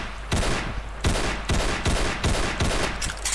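A carbine in Roblox War Simulator, a World War II shooter, fires about seven sharp, evenly spaced shots, loud and close, with no talking.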